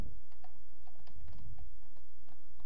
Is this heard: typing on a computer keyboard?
yes